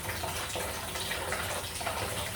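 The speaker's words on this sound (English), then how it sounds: "we've got water running down" Water runs down through household plumbing pipes in a steady, even rush of noise that holds throughout with no voices.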